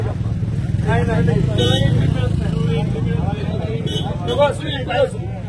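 Auto rickshaw and motorbike engines rumble steadily while several people shout and talk over them at a dairy farmers' protest march over milk prices in Tasgaon.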